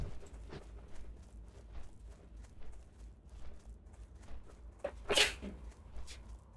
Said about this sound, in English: Man, that sneeze snuck up on me.